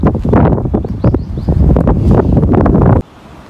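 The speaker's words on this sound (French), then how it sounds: "c'est pour ça qu'il fait un peu plus frais et qu'il y a un peu de vent." Wind blows on the north of Tahiti island near a black sand beach, buffeting the microphone in loud, gusty roars that cut off abruptly near the end, leaving a quieter background.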